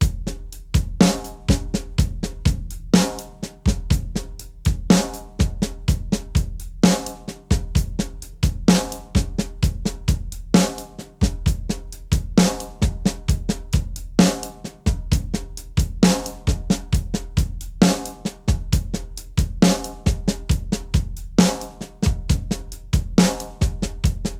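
A drum kit plays a slow paradiddle groove in 13/16, with sharp repeated stick hits and cymbal strokes in an evenly cycling pattern, close, loud and alone.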